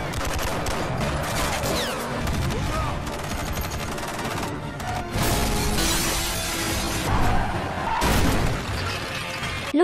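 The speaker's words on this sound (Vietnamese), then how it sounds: "liên tiếp cầm súng bắn xả đạn vào đối phương" Gunfire from a shootout in the action film The Expendables: rapid, sustained bursts of automatic weapons fire mixed with sharp cracks and crashing impacts, loud and dense throughout.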